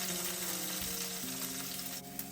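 Garlic fries in a pan at medium heat for a summer fërgesa, giving a steady, fairly quiet sizzle with a low steady hum beneath and a faint knock near the end, with no talk.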